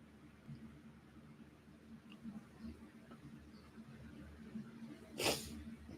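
A single short sneeze bursts out near the end, close and sharp over a quiet indoor background of faint breathing and rustle.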